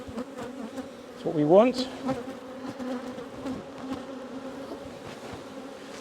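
Honeybees buzz steadily around open frames of brood and honey while two hives are combined, a close, continuous drone with a brief rising whine near the start and a person speaking briefly over it.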